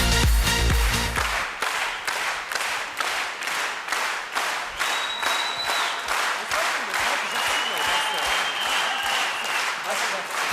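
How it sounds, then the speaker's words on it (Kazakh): A stage audience in a Kazakh comedy contest claps steadily and loudly throughout, the dense applause rising sharply at the start and rolling on without a break. "Қошеметтеріңіз, шапалақтарыңыз."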